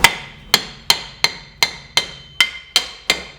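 A hammer strikes the handbrake mechanism on a Toyota Corolla 160i with a 4A-FE engine to loosen it: nine sharp metallic blows land at a steady, roughly even pace, each ringing briefly before the next.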